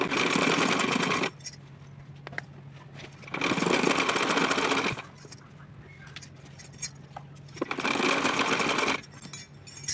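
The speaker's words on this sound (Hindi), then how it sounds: "इस तरह से खींच के इस पर रख करके हम सिलेंगे इसको।" Sewing machine stitching a small cotton outfit for a Laddu Gopal figure, running in three steady bursts of a couple of seconds each with quieter pauses between them.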